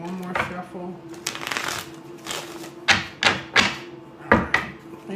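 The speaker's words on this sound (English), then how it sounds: "Let me give it one more shuffle." A deck of tarot cards is shuffled by hand in a series of quick riffling bursts, around six or seven crisp, close rustles spaced irregularly across the moment.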